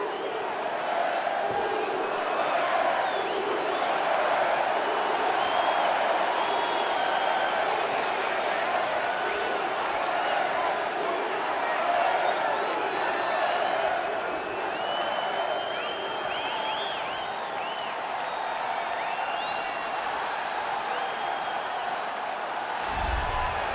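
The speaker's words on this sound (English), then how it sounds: "Crowd going crazy." An arena crowd cheers and applauds loudly and continuously ahead of a bantamweight title fight in the video game EA Sports UFC 4, a dense roar of clapping and whoops that holds for the whole stretch.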